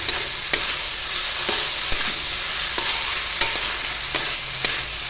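A fish curry masala sautéing in a pan alongside kohlrabi, a steady bright sizzle with sharp spoon-against-pan scrapes and taps every second or so, no talking.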